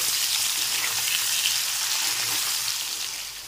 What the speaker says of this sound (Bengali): আর দিয়ে দিচ্ছি আলু টুকরোগুলো। এখন একটু নেড়ে চেড়ে ভেজে নিতে হবে।